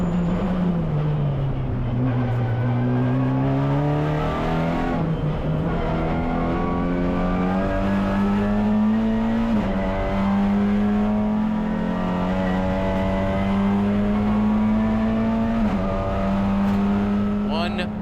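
TC America touring cars, including Honda Civic Type R racers, accelerate down the front straightaway at Indianapolis Motor Speedway. A loud, steady engine drone rises through gear changes, with commentators talking over it throughout.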